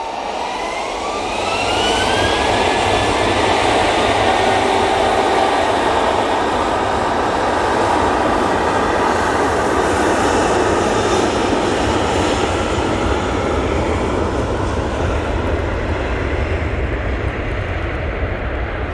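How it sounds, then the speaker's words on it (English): Boeing 737 on its takeoff roll at Manchester Airport, bound for Palma de Mallorca, a loud steady jet engine roar that builds early with a rising whine and holds strong to the end. "Right, 737 now on the roll."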